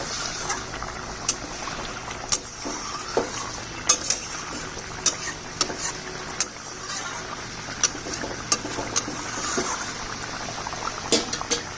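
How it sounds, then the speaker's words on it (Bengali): Fish dropped into a pot of boiling fish curry, a steady bubbling simmer broken by sharp clinks and taps of a spoon or utensil against the pot, close and unaccompanied by speech. "ঝোল ফুটে গেছে, এবার মাছটা দিয়ে দিচ্ছি"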